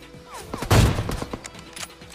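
A single loud AWM sniper rifle shot rings out in the battle royale game PUBG, a sharp crack followed by a short rumbling tail, with faint game sounds around it.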